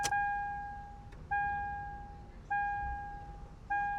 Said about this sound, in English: that's like my Koenigsegg fuel pump just priming up, getting ready